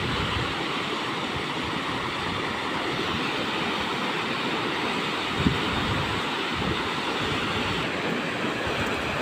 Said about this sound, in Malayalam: ഇതിലെ എന്തൊരു കുത്തൊഴുക്കാൻ നോക്കി വെള്ളം